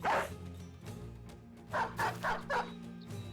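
War dogs bark in the tactical video game Battle Brothers: one sharp bark, then a quick run of four close barks and a softer yip, loud and clear against a low game background.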